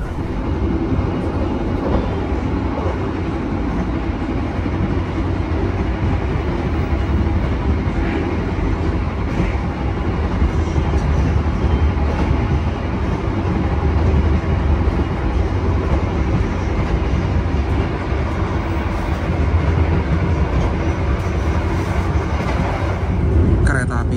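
An old-model KA Gajahwong passenger train runs at about 100 km/h, producing a steady, smooth rumble and rushing noise from inside the carriage with faint rattles throughout.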